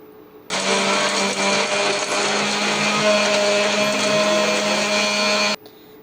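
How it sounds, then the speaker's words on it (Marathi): An electric mixer grinder whirs loudly as it grinds a coriander and salt paste, starting abruptly, running at a steady, high-pitched hum for about five seconds, then cutting off sharply. "हे मिक्सरला छान असं फिरवून घ्यायचे"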